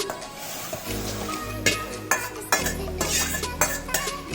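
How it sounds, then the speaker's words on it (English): Cooked mushrooms being scooped out of a kadai onto a plate: a spatula scrapes and clanks against the metal pan, with several sharper knocks and a steady low hum underneath, close and fairly loud, no voices. "So now I am going to remove this mushroom in a plate"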